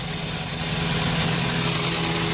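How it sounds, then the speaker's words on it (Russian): A car engine runs unevenly with a misfire, giving a continuous close rumble with a slightly irregular, uneven pulse throughout and no voices. "Двигатель работает с перебоями."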